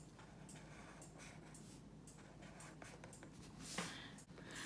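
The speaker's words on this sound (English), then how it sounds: "draw in, write in my days of the week." A pen scratches across the paper of a bullet journal while writing the days of the week, soft continuous strokes with small taps and pauses, close and fairly quiet, no voices.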